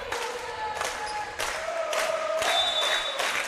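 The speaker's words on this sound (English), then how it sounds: "Got a little cheer going on for the Falcons." Spectators cheering for the Falcons at a men's college volleyball match, a moderate crowd roar with whistles and claps in a gym, steady throughout, no clear talk.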